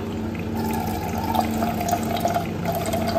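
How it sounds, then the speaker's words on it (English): Steady water running from a tap while demonstrating a water product, a continuous close splashing flow with no talk. "So we'll let the water flow."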